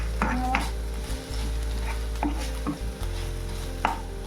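Crushed garlic, ginger and green chillies stirred in a pan for a mussel rice dish, with several scraping spoon strokes and soft knocks over a continuous low sizzle and hum.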